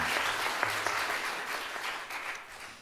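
Church congregation applauding after a combined choir and orchestra sing at an Easter dawn service, steady moderate clapping across the room, fairly soft and without voices.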